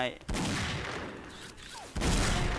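Bursts of rapid gunfire in the video game X-Shot, loud and dense, stopping briefly and then starting again.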